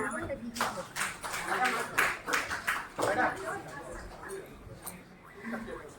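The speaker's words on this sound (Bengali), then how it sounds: "তাদের সামান্য সম্মাননা একটু করতালি হোক" A crowd at a Rabindra Jayanti celebration applauds the recitation artists on stage with scattered, moderate clapping, while a voice talks over it.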